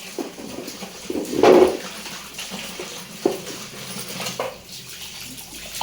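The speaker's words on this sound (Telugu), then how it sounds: "ఉప్పు, పసుపు వేసి వాష్ చేసేసుకుంటున్నాను." Crabs are swished and rinsed in a bowl of water with salt and turmeric, giving close, irregular sloshes and splashes with one louder splash early on.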